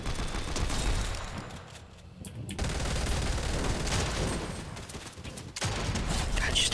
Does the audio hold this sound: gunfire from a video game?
yes